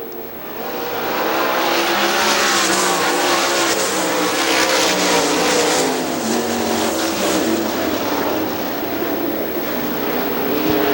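Sprint cars race around Hartford Speedway, a loud, continuous engine roar that swells and fades slightly as the pack circles, with no gaps.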